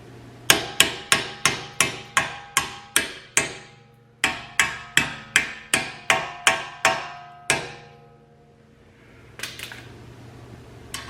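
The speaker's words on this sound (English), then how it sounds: "Tap them in a little bit." Hammer tapping parts into place during a front wheel bearing replacement on a Chevy Equinox, about seventeen sharp ringing metallic blows in two quick rhythmic runs, loud and close, then a brief faint rustle.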